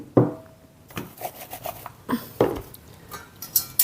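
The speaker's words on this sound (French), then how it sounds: "On met le couvercle" A lid set onto a Solar Brother solar cooker dish holding apple compote gives several light clattering knocks and scrapes, close and fairly crisp, in short separate bursts with quiet between them.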